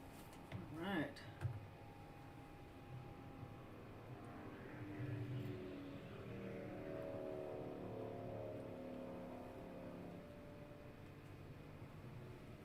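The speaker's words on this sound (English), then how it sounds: "Got a little racing action going on in the horseshoe right now." Vintage motorcycles road racing through the horseshoe at Daytona, engines droning steadily in the distance with a brief closer burst early on, mixed with crowd and track ambience.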